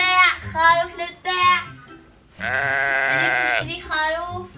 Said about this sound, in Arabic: خروف للبيع.